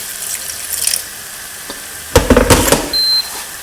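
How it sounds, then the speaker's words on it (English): Water is poured into a pan of sizzling paprika paste for a cottage pie, giving a sudden loud burst of hissing and bubbling after quiet sizzle, followed by a brief electronic beep. "I'm going to add a little bit more water to it"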